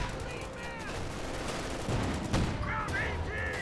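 Sharp reports from a Pak 40 anti-tank gun ring out in a Company of Heroes 2 battle, mixed with other scattered gunfire amid a busy wartime din.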